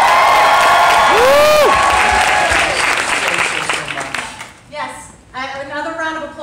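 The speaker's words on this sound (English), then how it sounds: "Another round of applause for this incredible." A Broadway theatre audience at a Dear Evan Hansen reopening curtain call bursts into loud applause with whoops and cheers, then the clapping fades as a voice starts speaking over the crowd.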